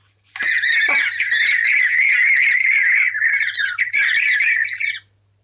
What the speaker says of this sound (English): the flamingo played a different sound on the 3rd swipe